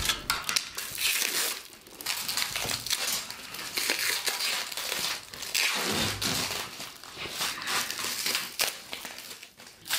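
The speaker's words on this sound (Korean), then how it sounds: "비닐 안에 숨겨져 있는 부품들을 꺼내고" Plastic packaging crinkles and crushes steadily as parts for a new white clothes rack are pulled out of it, with a dense, continuous rustle throughout and no talking.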